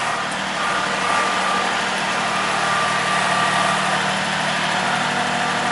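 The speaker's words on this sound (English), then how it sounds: "Nice tractor, eh? Beautiful Kabota." A Kubota tractor engine runs steadily at a farm sawmill cleanout, a close, continuous diesel rumble with a faint hum on top and no speech.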